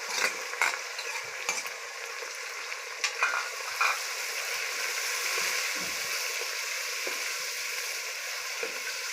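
Ginger garlic paste sizzles and fries in a pan for paya curry, a steady close hiss with a few clinks and stirring scrapes early on, no voices.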